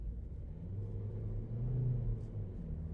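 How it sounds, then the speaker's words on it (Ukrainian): A 2018 Opel Astra K with a 1.6 diesel engine and automatic gearbox accelerates from inside the cabin, its low engine rumble steady and swelling slightly mid-way, with no talking. "Натиснемо газульку"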